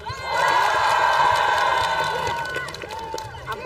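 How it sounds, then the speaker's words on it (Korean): An audience at an outdoor folk festival celebration concert in Cheongdo cheers and shouts loudly. The sound peaks early, then eases into a looser murmur of voices and scattered calls. "자, 자, 노래 잘한다 박수."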